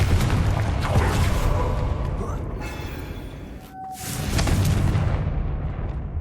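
Hogwarts Legacy Confringo fire spell exploding: a loud, sustained roaring blast that thins out briefly, then surges into a second rumbling burst, close and dense, with a short tonal cue in the middle.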